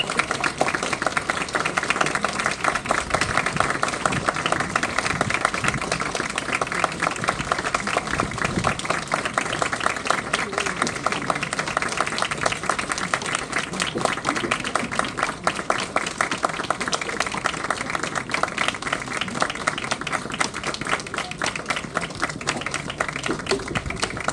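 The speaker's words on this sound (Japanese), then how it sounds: "盛大な拍手でお送りください。" Dense, sustained applause from a crowd at a Japan Ground Self-Defense Force anniversary ceremony at Toyama garrison as the 10th military band leaves the field, steady and continuous throughout with no talk.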